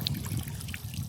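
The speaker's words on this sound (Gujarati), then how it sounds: "તો આમાં અત્યારે આપણે પાણી ચાલુ કરી રહ્યા છીએ" Water from a pond pipeline line trickles and gurgles into a freshly sown moong field, a soft continuous flow heard close up and alone.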